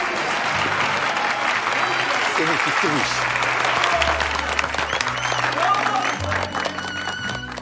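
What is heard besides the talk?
audience applause for contestant Tülin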